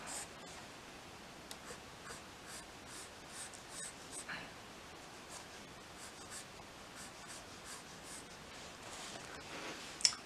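A pencil scratches softly on paper while shading a drawing of the Flying Scotsman locomotive, producing faint, repeated short strokes close by with a gentle rustle.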